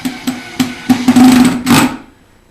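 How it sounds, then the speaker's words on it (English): Screw being driven into a kitchen cabinet during assembly, several sharp taps followed by a short loud buzzing run of a driver, close up, then quiet. "you put your first screw in."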